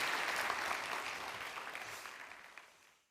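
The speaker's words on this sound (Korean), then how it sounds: "대표님께 박수 부탁합니다" An audience at an entrepreneurship awards ceremony applauds a company representative, a full wash of clapping that starts strong and gradually thins and fades out by the end.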